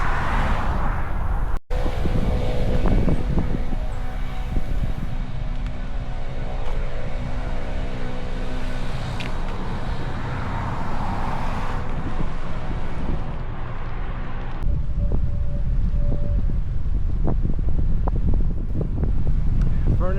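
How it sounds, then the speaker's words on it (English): Strong, gusty wind roars across the microphone during a bicycle ride near Amelia Island and Fernandina Beach, Florida, a loud continuous rumble and buffeting with a brief dropout early on. "That was very, very gusty. Gusty ride."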